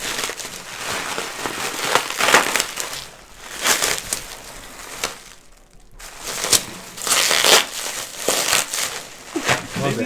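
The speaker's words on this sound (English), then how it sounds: "this is gonna be just a 10-minute video of us unwrapping stuff." X-Men and Fantastic Four comic books are unwrapped from their packaging, giving loud, close bursts of crinkling and crumpling that come and go in waves, with a brief lull midway.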